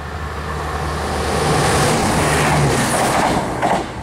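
A Class 170 Turbostar train bound for Stansted rumbles steadily past at close range at Manea station, a broad continuous roar with faint rhythmic clatter, building slightly and holding loud throughout.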